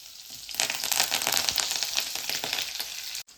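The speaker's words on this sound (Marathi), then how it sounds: "अर्धा चमच राई घालून घेणार आहे आणि थोडंसं फोडणीमध्येच आलं घालून घेणार आहे आणि कढीपत्ता" Mustard seeds, cumin, ginger and curry leaves hit hot tempering oil, bursting into a loud, close sizzle with crackling spatters that settles slightly before cutting off abruptly.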